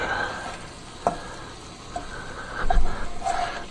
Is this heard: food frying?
yes